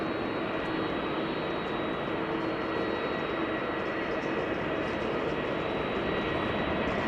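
Narrow-body airliners take off at Amsterdam Schiphol, a sustained broad engine roar held steady in the distance while a person talks over it.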